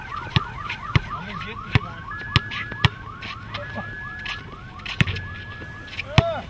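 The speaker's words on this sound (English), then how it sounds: "Unconvincing car alarms." A conventional car alarm loops through its cycle of warbling, whooping tones and steady beeps, loud and close, punctuated by sharp clicking bursts, with no voices.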